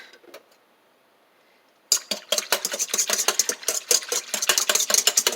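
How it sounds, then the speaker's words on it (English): A whisk clatters rapidly against a bowl, stirring sugar into yeast water, after a quiet start; fast, close, rhythmic metallic ticks, with no talking. "Then I'm going to take the whisk."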